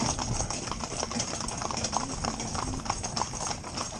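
Steady clip-clop of hooves from a mixed four-in-hand team of young, green ponies pulling a carriage along a road, continuous and fairly close, with no talking.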